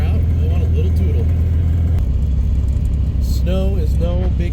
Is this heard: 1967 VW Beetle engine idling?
yes